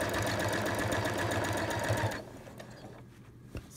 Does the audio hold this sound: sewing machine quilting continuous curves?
yes